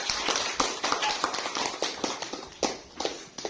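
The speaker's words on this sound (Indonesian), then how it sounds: "Silakan tepuk tangan buat Yoga" A class of students claps for a classmate, irregular sharp claps scattered and fairly close, with some voices in the room.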